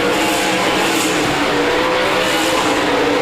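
Several 360 sprint cars race three wide at Park Jefferson Speedway in a continuous dense roar of engines, loud and unbroken, with rising and falling waves as the cars pass.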